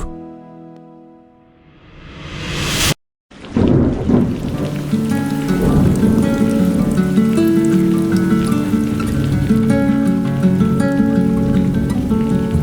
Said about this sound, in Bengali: বাইরে প্রবল বৃষ্টি এ বৃষ্টি হঠাৎ থামবে এমন আশা কম